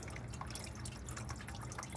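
Coolant flush dripping out of a 1968 Ford LTD, quick faint drips and trickles of water falling steadily at close range.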